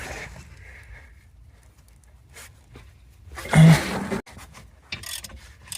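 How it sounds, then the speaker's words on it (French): Ratchet wrench used on a Lexus/Toyota handbrake: a few quiet mechanical clicks and a short louder burst of ratcheting, with sparse handling noise and pauses in between. "Étape intermédiaire, la clé à cliquet avant la clé dynamométrique."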